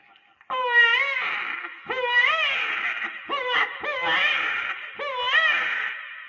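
A voice imitates a small baby crying in a series of wailing, rising-and-falling cries, five bursts close to the listener.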